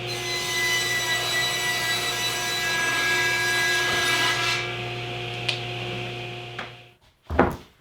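A saw rips lengthwise through a wooden board to make side walls for an oval epoxy dining table form, giving a loud, steady buzzing cut close by for several seconds. It winds down and ends with a couple of sharp knocks.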